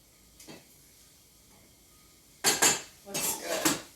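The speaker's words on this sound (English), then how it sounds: "I'm going to give it a little stir in the" A spoon scraping and clanking against a pot of rice on a stovetop burner, a faint tap early on, then a few loud, quick metallic stirs close up.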